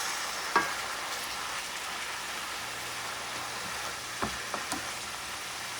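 Scallops caramelize in a frying pan with a quiet, even sizzle, broken by a few light taps and scrapes of a utensil, with no talk.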